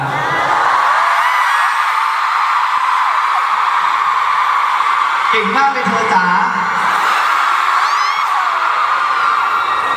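A crowd at a fan festival show screams and cheers in a steady, loud roar, with a voice speaking over the din midway.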